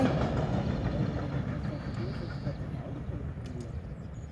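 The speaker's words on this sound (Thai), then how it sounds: "รถไฟพี่น้องรถไฟ" A train rumbles past at a distance with a broad, steady roar that slowly fades, while a voice speaks faintly over it.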